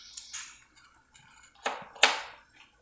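A knife cuts garlic cloves on a cutting board while a homemade cough syrup is prepared with lemon peel and cinnamon. Light scraping and soft taps come first, then two louder, sharp chops close by near the end, with no talking.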